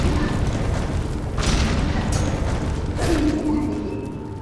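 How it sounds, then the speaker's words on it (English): Enemy corpse bursting in Hollow Knight: Silksong, two deep booming blasts about a second and a half apart over steady game noise. "And the corpse explosion."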